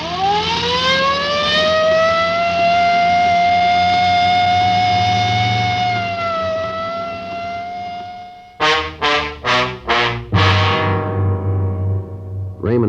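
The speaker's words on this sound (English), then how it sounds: "I better use the light and siren, Frank." A police car siren winds up into a long, loud, sustained wail, then breaks into a string of short, rapid yelping bursts before settling back into a steady tone, close and dominant with no talk.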